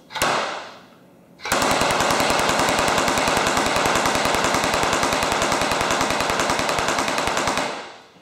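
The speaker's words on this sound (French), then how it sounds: "on va aller récupérer les bruits que ce marteau normalisé-là fait sur le plancher" A standardized tapping machine hammering directly on a bare concrete floor in a condo, a rapid, loud, even train of sharp impacts running for several seconds after a brief start-up, then stopping abruptly.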